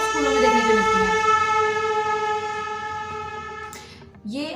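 A car horn that sounds like a train horn, a loud sustained multi-tone blast that holds steadily for several seconds, then cuts off sharply, followed by a brief rising sound.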